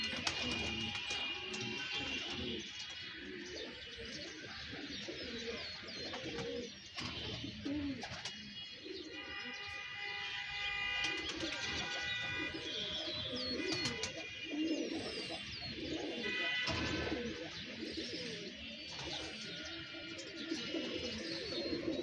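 Pigeons in a loft coo in overlapping rolling calls, a dense continuous chorus of many birds close by, with scattered chirps and light fluttering.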